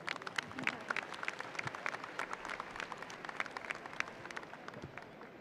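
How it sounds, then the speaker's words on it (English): At a high school graduation ceremony, an audience applauds an executive director with a full, continuous patter of many hands clapping, crisp individual claps standing out, moderately loud and steady throughout without speech. "If you could join me in a round of applause for Mr."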